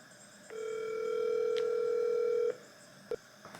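A telephone keypad sounds a steady tone for about two seconds, then a short DTMF beep follows as an outgoing call is placed; faint and close, with no talking.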